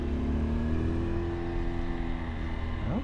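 A 2023 Honda Super Cub C125 motorcycle engine hums steadily while riding, a smooth even drone that is loud and close, with its pitch lifting briefly at the very end.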